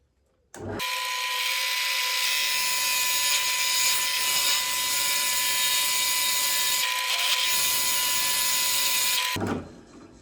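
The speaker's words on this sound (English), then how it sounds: "So I want essentially to be able to drill flat across the bottom there." A power drill bores a hole into a wooden guitar body, whining steadily for about nine seconds, a sharp high-pitched tone over grinding noise, starting and stopping abruptly with brief dips mid-run.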